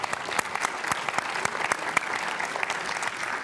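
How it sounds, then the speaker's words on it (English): An audience at a Sunday spiritual community service applauds, a dense, steady round of clapping with sharp individual claps standing out, loud and sustained throughout. "give yourselves a round of applause"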